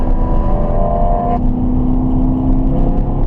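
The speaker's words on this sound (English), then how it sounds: "accelerating out of the corner" A car accelerates hard out of a corner on a Nevada race track, its engine a loud, steady close-up drone with a gear change partway through and no talking.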